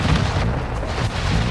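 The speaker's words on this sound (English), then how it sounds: "Throwing grenade!" A grenade explodes in Call of Duty DMZ, a heavy low boom with a rumbling tail that fills the whole moment, loud and close, with no voices.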